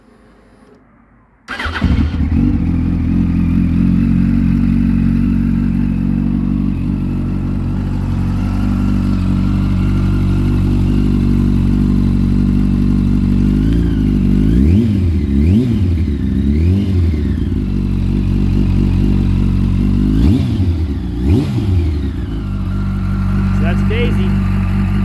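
A fuel-injected 2006 Yamaha R1 1000cc sport motorcycle with 11,000 miles starts after a brief quiet moment, settles into a loud, close idle, then gets several sharp throttle blips and revs before returning to idle.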